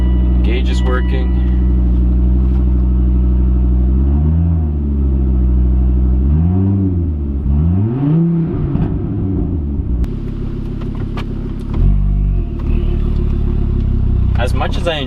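A Volvo V70R with a newly installed methanol injection and boost cooler kit idles nearby, its engine rising and falling through several revs and then settling back, with a person talking over the steady running.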